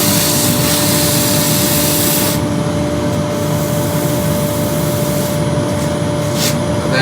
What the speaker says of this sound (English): it's the Axminster Deluxe bowl sander